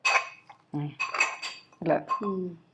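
Garlic cloves with skins pounded in a kitchen while making chicken pickle, several sharp metallic thuds and clinks in an uneven rhythm, close and fairly loud.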